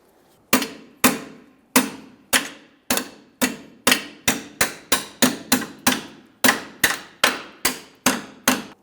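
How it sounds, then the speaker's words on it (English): Steel hammer tapping a bolt through the rear coil spring mount of a 2005-2010 Chrysler 300: about sixteen sharp, ringing metallic strikes, close and loud, in a steady rhythm that quickens toward the middle. "then we'll tap it through using our hammer"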